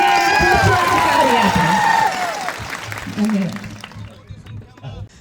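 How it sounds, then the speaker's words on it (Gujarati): Crowd applause at a political rally in Chhotaudepur, a dense wash of clapping and cheering that gradually fades over several seconds, mixed with shouts and a voice carrying over the noise. "એક જોરદાર તાળી આપણે ફરતી વગાડીએ ચેતરભાઈ સામે"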